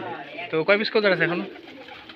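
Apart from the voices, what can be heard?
Rajshahi Giribaz pigeons cooing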